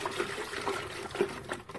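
Medicine solution being stirred into a container of water for pigeons, producing soft, close sloshing and trickling splashes in short bursts with no talking.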